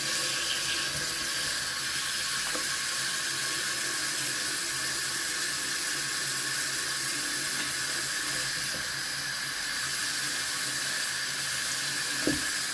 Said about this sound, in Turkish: Suyumuz e, ılıktan soğuk olacak. Şöyle açıyoruz.